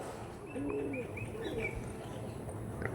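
Faint cooing and a few thin bird calls float over a constant outdoor hum, distant and low in volume.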